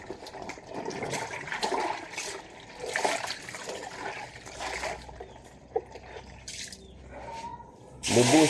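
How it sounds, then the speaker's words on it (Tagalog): Water poured onto a mop during household cleaning, a steady splashing trickle that swells and fades, with a slightly louder gush near the end. "Binubuhos ko po sa map para yung map mabango pag pinampunas ng sahig."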